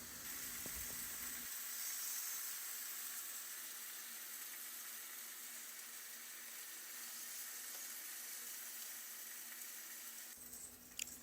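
Steak laid into melted butter in a hot pan gives a steady, close sizzle and hiss that holds evenly for about ten seconds, with a brief clatter at the start and a small knock at the end.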